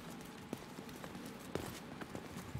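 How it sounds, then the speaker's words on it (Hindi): Running footsteps in The Division 2, quick repeated muffled thumps with a few sharper impacts, set under constant game ambience. "भागने की आवाज आ रही है अभी तो।"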